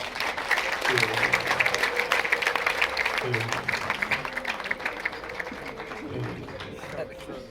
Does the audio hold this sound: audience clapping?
yes